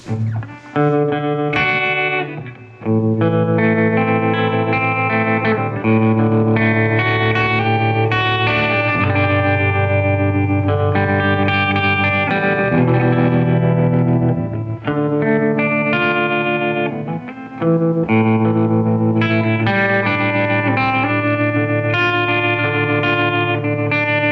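Electric guitar through a Fender '65 Deluxe Reverb reissue amp plays chords and melody continuously with the amp's wavering, pulsing vibrato effect, steady and fairly loud throughout.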